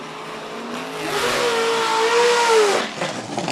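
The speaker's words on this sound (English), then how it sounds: "the Nissan 350Z powered by an LS V8" A Nissan 350Z fitted with an LS V8 revs on the start line at a hill-climb event, giving a loud, sustained rising engine roar that swells over a couple of seconds and then drops away.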